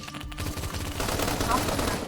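Rapid bursts of gunfire rattle continuously in a quick rhythm, sounding like automatic weapons in the Roblox game Phantom Forces, fairly loud throughout.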